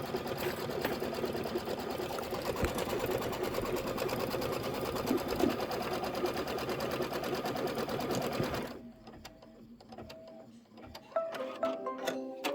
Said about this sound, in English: And the quilting is 2 minutes of stitching.